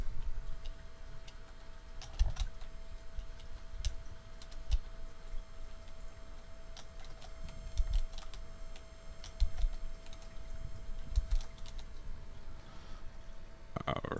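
Text typed on a computer keyboard, soft irregular key clicks in short runs, close and fairly quiet against a faint steady hum, no talking.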